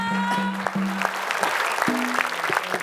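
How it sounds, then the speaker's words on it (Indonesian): Studio audience applause on a TV quiz show, a short burst of scattered clapping at moderate level, overlapped by a presenter's voice and some background music tones. "Berikan tepuk tangan dong."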